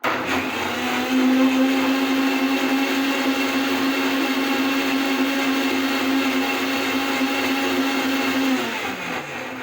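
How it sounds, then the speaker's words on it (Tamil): A mixer grinder whirs loudly and continuously as it grinds amla (Indian gooseberry) for juice, holding a steady motor whine for several seconds before it winds down near the end. "இப்போ தூக்கி மிக்சர் ஜாரில் போட்டு நல்லா அரைச்சிட்டு வந்துடலாம்"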